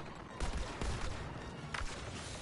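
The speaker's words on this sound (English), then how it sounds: "Don't you dare shoot at me, you dumb fucking TIE fighters" TIE fighters firing blasters in Star Wars Battlefront II, heard as a few sharp, fairly faint laser shots in quick bursts over rumbling battle noise.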